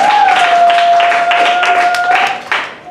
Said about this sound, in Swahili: Tumpigie Bwana aliyezifanya mbingu na nchi makofi.